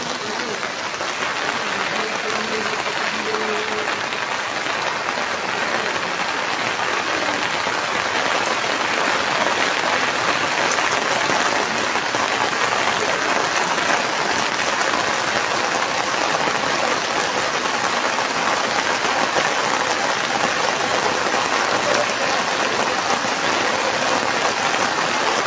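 Heavy typhoon rain pours steadily for the whole stretch, a dense, loud, unbroken hiss with no pauses and faint voices buried underneath.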